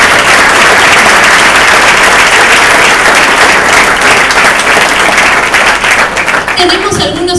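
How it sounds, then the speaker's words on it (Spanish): Loud, sustained applause fills a church conference gathering in Argentina, dense clapping from a large audience running steadily before thinning out near the end. "Le damos un fuerte aplauso al Señor"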